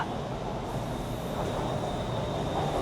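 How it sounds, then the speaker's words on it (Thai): Two trains pass each other with a steady, loud rumble of wheels on rail and a faint high squeal, continuous and close, with no voices. "รถไฟสวนกันน่ะ"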